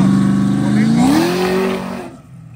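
A Chevrolet S10 truck with a 6.2 engine and nitrous accelerates hard at a drag racing event, a loud nearby roar rising in pitch, then fading quickly into the distance.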